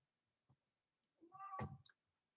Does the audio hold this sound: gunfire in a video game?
no